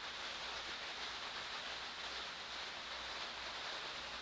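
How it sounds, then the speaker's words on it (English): Steady, soft rain hiss with no breaks, a faint even wash of falling water and no other sounds. "Raining."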